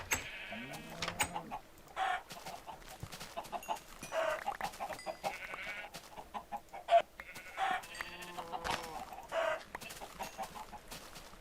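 Many Minecraft chickens cluck and squawk in overlapping bursts, a busy farmyard chorus with bleating-like calls mixed in, continuous and fairly close.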